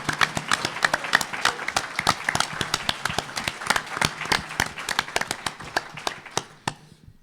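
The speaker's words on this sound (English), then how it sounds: "I want to give a round of applause for the professionality of those guys" Sparse applause at a conference round table, a small group giving distinct, individual claps in a loose rhythm that thins out and stops near the end.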